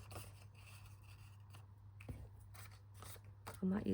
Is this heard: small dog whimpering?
no